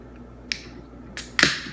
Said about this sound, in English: let's go ahead and crack this top and see what we got